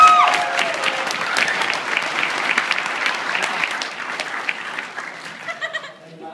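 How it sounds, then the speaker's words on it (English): An audience at a Pax East talk claps in steady applause for several seconds, dense and even before thinning into a few scattered claps at the end. "Round of applause for you."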